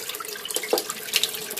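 Tap water from a filtered water system runs into a container, a short close splashing and trickling burst with bright bubbly spatters.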